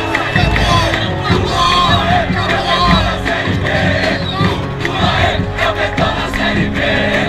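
A football crowd sings and chants together in a Brazilian stadium near the end of a Série D match, a dense, loud, continuous wall of voices with rhythmic swells and shouts.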